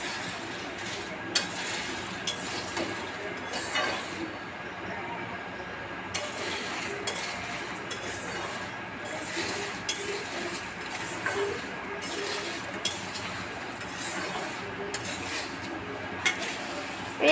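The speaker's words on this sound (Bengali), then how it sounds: "নাড়াচাড়া করে নেবেন" Food being stirred in a cooking pot, with light metallic clinks and scrapes repeating at an uneven rhythm over a low background hum.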